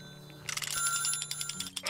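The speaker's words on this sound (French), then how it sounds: "Le téléphone sonne." Telephone ringing in the factory-building video game Little Big Workshop: a rapid electronic bell trill in repeated short bursts over a low background hum, moderately loud and close.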